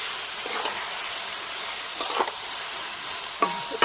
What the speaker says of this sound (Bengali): এবার এর সঙ্গে ভালো করে মিশিয়ে দেবো